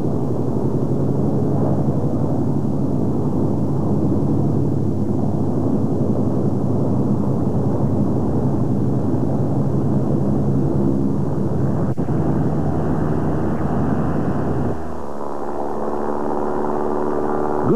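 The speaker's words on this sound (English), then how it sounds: "The engine revved up, and before you knew it," Propeller engine of a Goodyear Inflatoplane, an inflatable rubber aircraft, droning steadily in flight with a loud, even rumble that shifts pitch slightly near the end.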